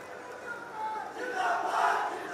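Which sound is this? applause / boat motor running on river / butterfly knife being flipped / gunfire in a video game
applause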